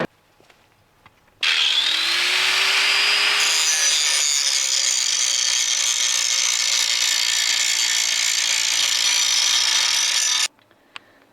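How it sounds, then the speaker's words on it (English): An angle grinder fitted with a grinding disc cuts metal brackets for a long-travel suspension build, starting abruptly into a loud, steady high-pitched whine that holds for about nine seconds before stopping sharply. "So I'm just going to change over to my grinding disc now"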